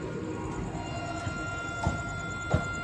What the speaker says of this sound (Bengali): এই পাশ থেকে একটা লোকাল ট্রেন চলে যাচ্ছে খুরদা রোড জাংশন থেকে